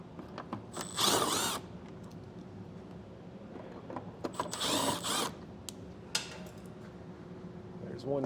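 A power tool whirs in two short bursts while removing 10mm screws from trim on a 2024 BMW, with quieter handling clatter and a voice talking between them.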